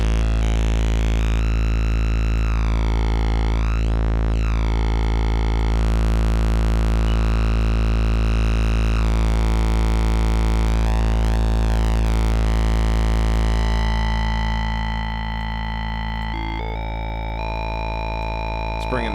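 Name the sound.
synthesizer oscillator tone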